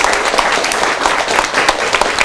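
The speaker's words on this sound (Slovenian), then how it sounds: "Dejmo jim en velik aplavz." An audience at a community event applauds the music teacher with brisk, dense clapping, loud and close, continuing evenly for a couple of seconds.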